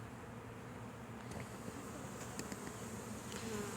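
A swarm of honeybees buzzes in the open air, a dense steady drone with individual bees zipping close by now and then, quiet and continuous without speech.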